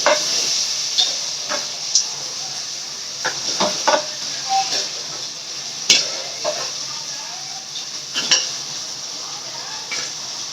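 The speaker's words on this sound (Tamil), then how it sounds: "வதங்கிச்சு வெங்காயம் தக்காளி வதங்கிச்சு. இப்போ கறி போடலாம்." Meat goes into a pan of sautéed onions and tomatoes for a chicken gravy and sizzles steadily while a spoon stirs it, scraping and knocking against the pan at irregular moments, close up.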